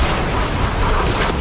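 Loud, dense gunfire and booming blasts from the shooter game Until Dawn: Rush of Blood pound continuously in a short, saturated burst with no voices.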